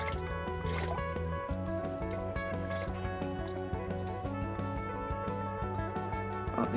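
Water and gravel swirl and slosh in a gold pan, a close, continuous liquid churning with small drips and gritty shifting throughout, with no talk over it.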